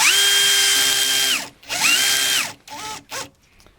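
A Metabo PowerMaxx BS 12 BL Q 12V drill/driver strains to drive a 3.5 x 30 mm Torx screw: two long steady motor whines, each slowing at the end, then a few short stuttering bursts, loud and close with no speech.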